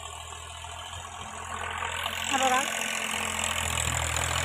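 A tractor engine idles on a farm, a low steady drone that swells slightly partway through, while someone speaks briefly over it.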